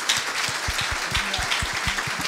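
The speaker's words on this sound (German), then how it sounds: "Erstmal noch einen großen Applaus dafür, dass es heute überhaupt möglich gemacht werden konnte." An audience at a science slam event claps steadily, a dense wash of hand claps that holds even throughout.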